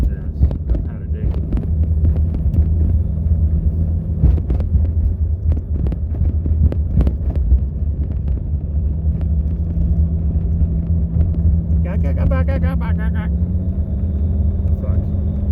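A 1989 Jeep Cherokee Pioneer drives along with a steady low engine rumble and wind noise, while someone talks over it throughout.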